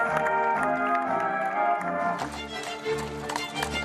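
A Lipizzaner horse's hooves clip-clop steadily beneath dense, loud music, the hoofbeats partly masked by the musical bed throughout.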